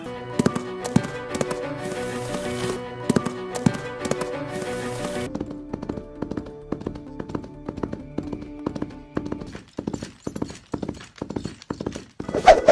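Coconut-shell foley imitating horse hoofbeats for film, a steady clip-clop rhythm of hollow knocks, dense at first and then spacing out into separate, clear taps close up with no talking.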